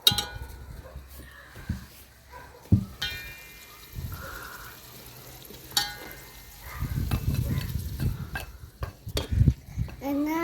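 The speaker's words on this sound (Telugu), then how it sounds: "ఉప్పు అన్నేసి చాలా నిదానం కలుపుకునండి" Salt and turmeric are stirred slowly into paneer pulao rice, with a spoon scraping and clinking against the pot in scattered strokes, growing busier and louder toward the end over a faint background sizzle.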